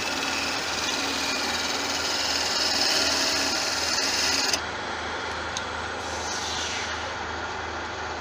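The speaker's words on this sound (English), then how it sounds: "we've got another scrape just to clean it" A scraping tool works a Balinese teak chalice spinning on a wood lathe, giving a steady abrasive hiss over the machine's hum for about four and a half seconds before easing to a quieter running drone.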